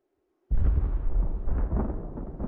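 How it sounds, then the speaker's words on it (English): Broadside cannon fire from a sailing warship in Ultimate Admiral: Age of Sail, a sudden loud rolling roar of many guns going off together and rumbling on without a break, heard alone. "Let's slow down so that we can hopefully get both broadsides firing."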